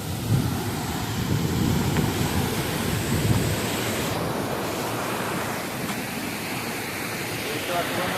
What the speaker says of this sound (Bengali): জলটা যাচ্ছে দেখো বন্ধুরা